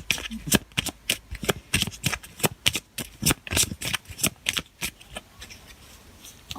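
Tarot cards shuffled by hand at close range, a rapid run of crisp riffling slaps and papery flutters in quick irregular bursts that fade toward the end, with no voice over them.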